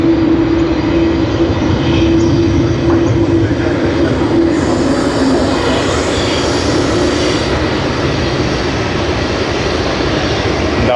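A Qantas jet airliner at Sydney Airport makes a loud, steady roar that stays continuous and close throughout, with a faint tonal whine riding on it early on and no talking.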